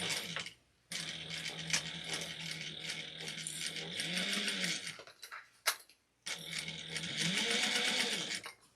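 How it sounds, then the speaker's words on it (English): A sewing machine stitches a bag seam with a half-inch seam allowance, following the curve of a satchel. It runs in steady, close bursts with brief pauses between them, and no one speaks. "we're going to sew using a 1/2 inch seam allowance"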